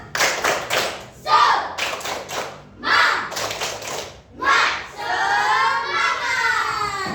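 A class of children claps out a spirited rhythmic chant, bursts of loud, close clapping in patterned groups separated by short pauses, ending with children's voices shouting together.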